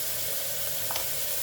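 Turmeric goes into a sizzling pan of oil while bottle gourd fry is being made, a steady close frying hiss with a brief soft stir or tap near the end.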